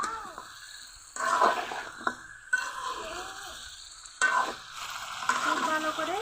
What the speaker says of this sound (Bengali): এখন ভেজে রাখা আলু আর চিকেনগুলো দিয়ে দিব। আরও কিছুক্ষণ কষিয়ে নিব।